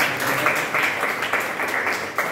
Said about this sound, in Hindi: तो इनके लिए भी ताली होनी चाहिए।